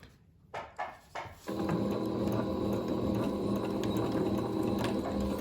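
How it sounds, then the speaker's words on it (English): Sewing machine edge stitching a pocket seam on shirred waist pants, a few short bursts of needle clatter first, then a continuous fast, steady stitching whir up close. "we're going to run an edge stitch along that seam about 1/4 inch away"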